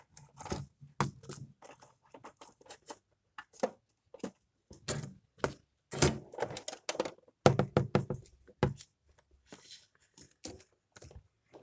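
Kinder Joy egg package being torn open, with crinkling plastic wrapper, sharp tearing and tapping bursts in quick irregular succession, close and fairly loud.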